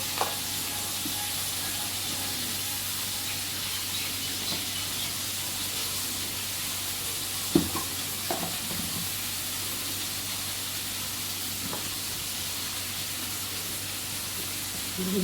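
Food frying in a pan, a low steady sizzle and hiss running throughout, with a few faint utensil clicks and one brief louder clatter, moderately quiet.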